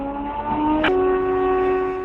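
A train siren heard over a phone call: a sustained tonal horn-like wail with a couple of harmonics, stepping down slightly in pitch partway through, with a brief burst of noise at the shift.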